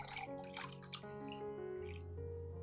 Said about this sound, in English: I'll dilute it with 1 liter of clean water